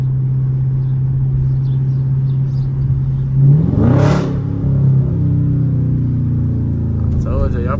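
A 2022 Dodge Charger Scat Pack V8 revs hard while being slid around street corners, its loud engine roar swelling to a sharp peak mid-clip before settling back into a steady rumble.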